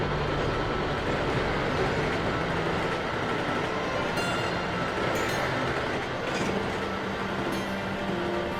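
A train rolls steadily along the track with a constant loud rumble and faint rhythmic clatter, plus a few brief high squeals, alone without talk.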